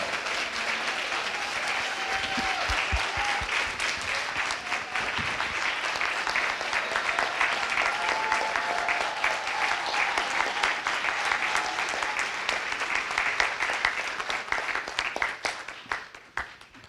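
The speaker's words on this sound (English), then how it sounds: "ladies and gentlemen, give it up for all of our awardees today" Sustained audience applause for honorees at an Unsung Heroes awards ceremony, loud and steady with dense clapping from a large crowd for about fifteen seconds before tapering off at the end.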